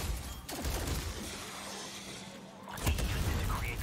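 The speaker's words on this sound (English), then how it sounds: "Big explosion." A big explosion goes off in a video game, a dense broadband blast with rumbling low end that dips briefly and then bursts again in a second loud crash.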